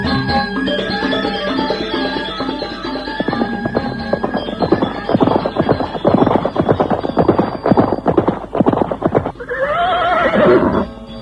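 A horse neighs loudly and close by, a long whinny followed by snorting and hoof clatter, then another shrill neigh at the end, with no talking.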